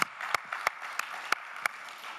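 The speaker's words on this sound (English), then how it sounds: "a big applause. Good clap." Scattered, sparse hand claps from an audience at the TRT World Citizen Awards ceremony, a handful of sharp distinct claps over a soft steady murmur of clapping in the room.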